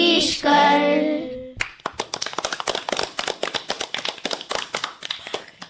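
A school audience bursts into loud, dense applause for a children's performance at a girls' school cultural programme. The clapping follows the tail end of a sung note and holds steady and close for several seconds.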